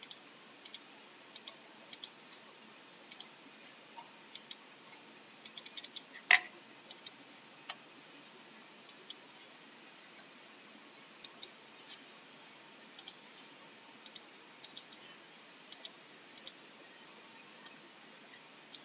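Sparse, faint computer mouse clicks ring out one by one at irregular intervals, with one brief cluster of quick clicks, over a quiet background hiss and no talking.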